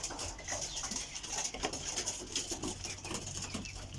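Pigeons in a loft, a steady background of cooing and wing patter with fluttering and scuffling, fairly close and continuous with no talk.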